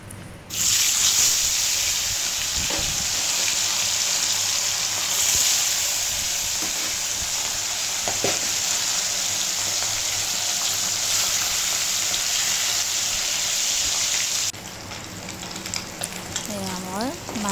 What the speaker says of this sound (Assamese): এয়া নিমখ দি দালিখিনি হোৱালৈকে এতিয়া মই মাছখিনি ভাজি ল'ম। কেৰাহী গৰম হ'ল, তেল দিলোঁ।